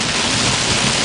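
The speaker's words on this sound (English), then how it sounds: "And it's raining." Steady rain falling outdoors, with wind expected to pick up, makes a dense, continuous hiss of even loudness throughout, with no voices.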